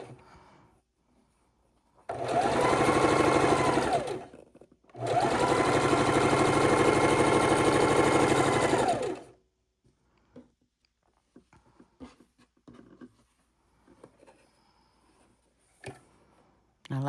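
A sewing machine stitches a quilt snowball block in two loud, steady, close bursts of whirring with a short pause between them, followed by quieter fabric handling, small clicks and taps.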